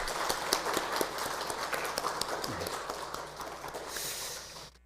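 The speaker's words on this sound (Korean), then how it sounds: "박수해 주시기 바랍니다." A church congregation applauds the youth group president during Sunday worship, with dense, continuous clapping that gradually fades out, and a brief low voice murmuring partway through.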